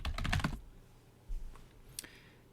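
Quick bursts of keystrokes on a computer keyboard during an ipconfig command, a rapid cluster of clicks followed by a few isolated taps, close and fairly quiet.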